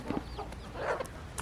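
Farm chickens give a few soft, short clucks close by, quiet against a low background.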